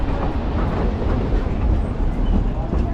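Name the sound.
narrow gauge train running on rails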